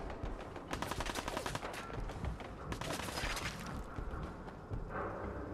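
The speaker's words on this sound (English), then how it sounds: "Shooting at me, seriously." Enemy gunfire in Fallout 4, rapid bursts of shots crackling continuously in dense, overlapping volleys at moderate loudness with no talk over them.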